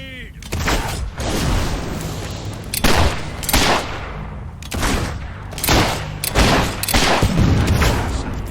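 Grenade blasts and heavy gunfire in the video game Fable III, with several loud booming bursts in quick succession layered over continuous combat noise and a shouted voice.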